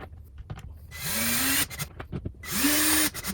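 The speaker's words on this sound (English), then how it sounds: "screw it in." Power drill driving screws into a wall to mount a wall heater, two short whirring bursts that each ramp up in pitch, separated by a pause with light handling clicks, close and fairly loud.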